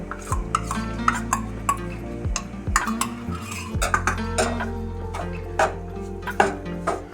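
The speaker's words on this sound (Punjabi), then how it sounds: "ਚੰਗੀ ਤਰ੍ਹਾਂ ਇਹਨੂੰ ਮਿਕਸ ਕਰਕੇ ਤੇ ਆਪਾਂ ਇਹਨੂੰ ਲੋ ਫਲੇਮ ਤੇ ਭੁੰਨਾਂਗੇ" A spoon scrapes and clinks against a pan while stirring flour roasting in ghee over a low flame, a steady run of close metallic taps and rubbing strokes with no voices.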